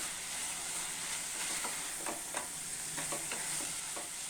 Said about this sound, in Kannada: ಇದಕ್ಕೆ ನಾನು ಕ್ಯಾಪ್ಸಿಕಮ್ನ ಹಾಕೋತಾ ಇದ್ದೀನಿ. ಇದನ್ನು ಸಹ ಚೆನ್ನಾಗಿ ಫ್ರೈ ಮಾಡಬೇಕು.